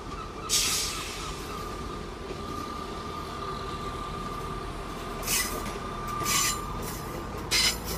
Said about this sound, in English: Now pulling into platform 3 at Aberdeen will be your 1351 1 71 ScotRail service from Edinburgh.